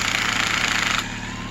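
Chainsaw idling after its loose muffler bolts were fixed, a steady buzzing engine drone heard close and loud, easing slightly toward the end.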